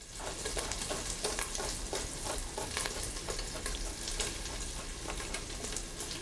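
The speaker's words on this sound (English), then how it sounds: "So I'm going to just add a little garlic to my bacon." Garlic sizzles in frying bacon in a pan, a steady crackling hiss with scattered pops and stirring, close and fairly quiet, with no speech.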